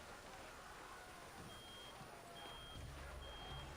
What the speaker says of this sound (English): What's that sound? Some kind of alarm?